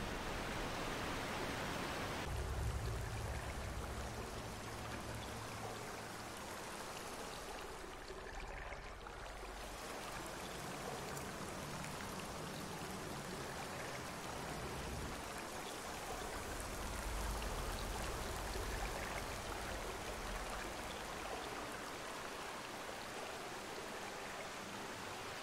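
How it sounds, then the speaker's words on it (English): A waterfall in the Skyrim Special Edition video game roars steadily as a broad, continuous rush of falling water that fills the whole stretch, close and loud, with no talk over it. "Looks like it might be behind this waterfall."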